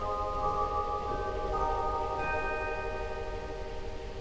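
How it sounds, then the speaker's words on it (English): Chrysoglot stop on the ex-Gaumont Manchester Wurlitzer theatre organ, sustained bell-like metallic tones ringing and overlapping, with new higher notes entering one after another over a steady low background rumble. "There's also a chrysoglot."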